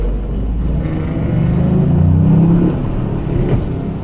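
A car engine in a video game idles at the Nürburgring with a steady, deep rumble that swells a little in the middle, then settles back. No voices.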